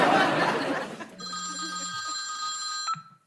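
A telephone bell rings once with a bright, sustained electronic trill, close and clear after some muffled laughter and chatter, then cuts off abruptly.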